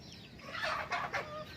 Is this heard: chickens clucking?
yes